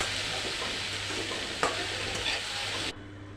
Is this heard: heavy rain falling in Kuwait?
no